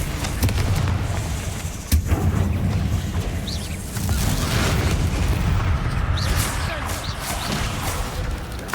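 A Confringo fire spell detonates in the Hogwarts Legacy video game, giving a loud booming blast over a dense rumbling game soundscape, with a sharp burst near two seconds and further crackling impacts later.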